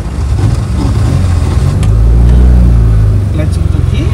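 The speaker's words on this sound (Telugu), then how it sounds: "తర్వాత బీగాలు తిప్పి స్టార్ట్ చేస్తాం" A car engine runs close and loud after being started with the key, a heavy steady low rumble that swells slightly midway and then settles.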